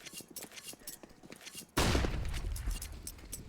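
Counter-Strike match on the Train map: light tapping and clicks, then a sudden loud burst of gunfire that keeps rattling under a caster's fast talk.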